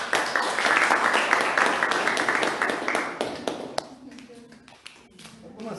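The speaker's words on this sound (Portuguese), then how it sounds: "E as palmas vão assim." A church congregation claps hands, dense and loud at first, then thinning out into scattered claps as it fades.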